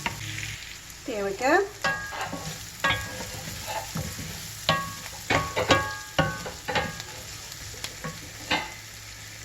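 A spoon stirs squash and jalapeno into a cheesy cornbread mixture in a bowl, giving irregular scraping and clacking strokes, some louder than others, close by. A voice briefly speaks once.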